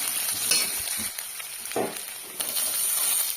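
Cumin seeds, chopped garlic and ginger fry in hot mustard oil, giving a close, bright sizzle with a few stirring scrapes and soft thumps.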